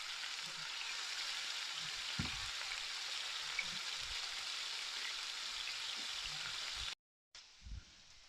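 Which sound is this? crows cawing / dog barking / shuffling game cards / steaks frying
steaks frying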